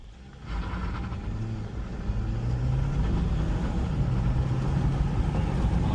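A Jeep Wrangler 4xe hybrid with 380 hp pulls away hard from a standstill, its engine note rising steadily into a sustained, loud mid-range drone inside the cabin with no talking.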